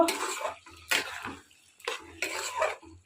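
Spiced chicken is stirred in a pot with a spoon, giving bursts of metallic scraping and clinking in uneven strokes, close and fairly loud, separated by brief quiet gaps.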